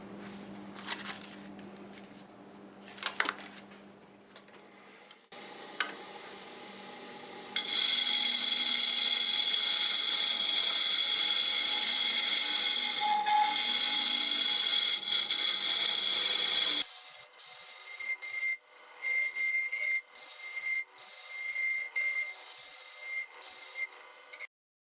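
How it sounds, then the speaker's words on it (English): Negative rake scraper cutting on a lathe-turned staved bowl of jatoba and walnut, a steady close rasping hiss for about ten seconds, followed by shorter choppy scraping passes and pauses. "I'm going to go ahead and finish it off with my negative rake scraper"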